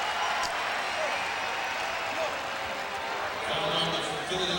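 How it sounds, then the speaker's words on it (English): A large basketball arena crowd at a playoff game gives a sustained sarcastic cheer, a dense, steady roar of voices that swells slightly toward the end. "A bit of a sarcastic cheer from the crowd."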